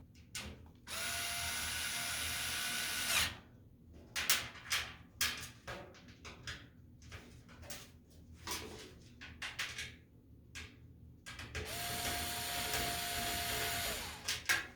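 A power drill drives screws into a fire pit during assembly, with two sustained whirring runs at the start and end and several short bursts with pauses between them in the middle.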